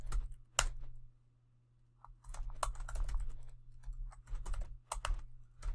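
Code being typed on a computer keyboard for a Java card game, rapid bursts of close, crisp key clicks with a short pause early, continuing in quick irregular runs.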